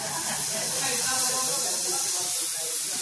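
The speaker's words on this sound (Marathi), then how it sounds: "असं मस्तपैकी चहा उकळतोय." Tea boils in a pot on a home stove, a steady close hiss and soft bubbling that carries on without a break.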